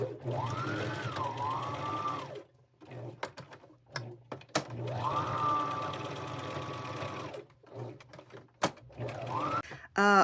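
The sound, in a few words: sewing machine stitching fabric scrap appliques onto bib overalls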